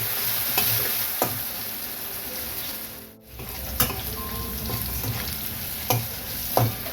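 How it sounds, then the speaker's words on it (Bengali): Potatoes with salt and turmeric frying in a pan, a steady sizzle broken by several sharp stirring scrapes of a utensil against the pan, with a brief dip in the middle. "একটু নুন দিলাম, একটু হলুদ দিয়ে আলুটা ভেজে নেবো"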